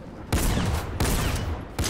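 Bursts of rapid gunfire from a Fortnite match, loud and close, coming in three dense volleys separated by brief gaps, with no talk over them.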